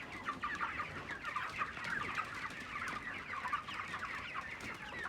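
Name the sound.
chickens clucking on a poultry farm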